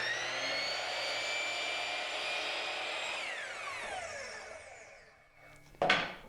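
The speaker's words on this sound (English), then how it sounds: "I'm just going to line up the saws so I get a nice miter" A miter saw cutting a 45-degree miter in wood: a steady loud high whine that winds down after a few seconds, followed by a short sharp clack near the end.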